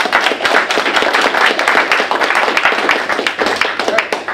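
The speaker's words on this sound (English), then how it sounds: "All right, how about a round of applause for Roland?" Audience applause at a sports analytics conference, a steady, dense wash of many hands clapping close by, sustained without pause for several seconds.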